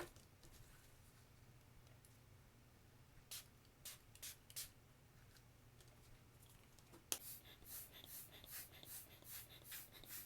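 Several short, soft hissing sprays of shimmer spray onto cardstock, scattered in quick bursts against a faint low hum, quiet and close.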